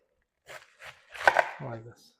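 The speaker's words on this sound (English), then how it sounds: "I'm going to cut the sides" A knife chopping through a head of cabbage on a cutting board, a few separate cuts followed by a denser burst of crunchy strokes, close and fairly quiet with a brief low voiced sound near the end.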